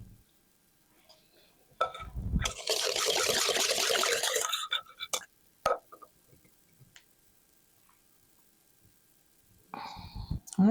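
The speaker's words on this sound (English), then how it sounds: "So then you just pour this over and try to keep it in the pan." A liquid mixture is poured over bread pudding in a pan, a steady close splashing pour that lasts about two seconds, with scattered quiet handling noises before and after.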